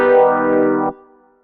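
An augmented triad chord sounded as a single sustained tone with a bright, slightly distorted timbre, held for just under a second before cutting off into a short fading tail.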